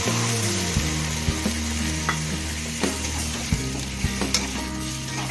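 Chicken frying with spices and sauce in a pan for a chilli chicken gravy, a continuous loud sizzle punctuated by repeated sharp clinks and scrapes of a spatula against the pan.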